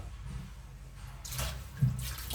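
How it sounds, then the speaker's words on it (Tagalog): Water splashes and pours into a cooking pot of chicken tinola in two short, near bursts, with a faint background hum between them. "Tapos nilalagyan ko yan ng kunting tubig."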